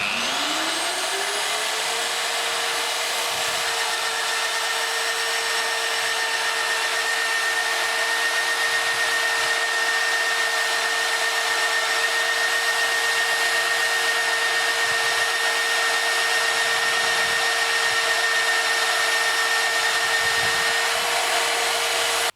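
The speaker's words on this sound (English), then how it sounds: "we're going to drill a steel beam for a home extension" A magnetic base drill's powerful electric motor whirs up to speed and holds a steady, loud, high-pitched whine for a long stretch while drilling a steel beam, with faint low thumps underneath.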